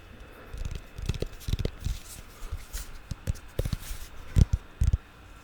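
Light ASMR tapping close to the microphone, a series of soft, irregular taps and knocks in small clusters, quiet and intimate with no talking.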